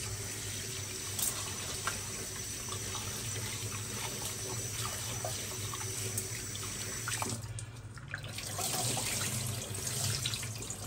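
Hot water pours steadily from a kitchen tap into a sink, a continuous hissing splash that briefly dips around the eighth second before resuming at full strength.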